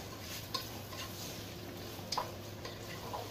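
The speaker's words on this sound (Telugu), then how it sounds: "ఇప్పుడు మనం ఇక ఈ ఆనియన్ని మంచిగా ఫ్రై అవ్వనివ్వాలి" Finely chopped onions fry with spices in a pan, giving a soft, constant sizzle broken by a few sharp clinks of stirring against the pan.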